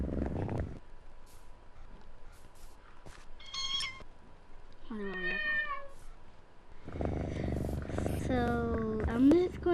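A household cat with a litter of kittens makes a few short, high meows separated by quiet gaps, then a louder burst of meowing at the end over a low purring rumble, close by.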